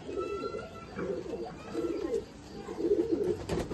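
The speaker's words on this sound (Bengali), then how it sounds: "আরেকজনের পায়রা দেখাচ্ছি, কালাঙ্কা না?" Kalanka pigeons in a home loft coo repeatedly, with soft, throaty rolling calls close by that overlap in uneven bursts, and a light rustle near the end.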